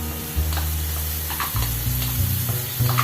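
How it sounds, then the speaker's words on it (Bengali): Whisked sour curd hits a hot pan for Bengali curd prawns, setting off a loud, steady sizzle with bursts of stirring and frying crackle throughout, close by and without voices. "এবার এখানে দইগুলো দিয়ে দিচ্ছি।"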